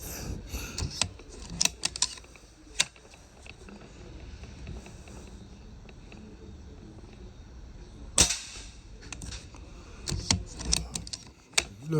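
A Macavity Arms air rifle fires one sharp shot about two-thirds of the way through, surrounded by quieter mechanical clicks and handling noises at close range.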